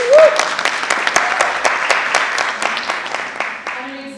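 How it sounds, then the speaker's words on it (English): Audience members at a Limpopo digital transformation summit clap together in a steady, fairly loud round of applause, with a brief voice and tone near the start and faint sounds as it tails off. "if everybody will join me in just giving a big hand clap."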